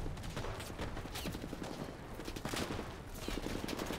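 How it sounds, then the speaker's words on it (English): Rapid gunfire crackles in a World War II battle in the Enlisted video game, as an enemy shoots from beneath a building. Dense overlapping shots and bursts rattle continuously at close range. "Stop shooting me from underneath the building"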